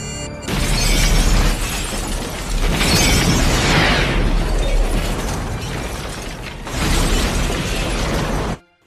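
A house explodes in a film: loud, close blasts of roaring, crashing debris come in two heavy surges and a final burst, then cut abruptly to silence.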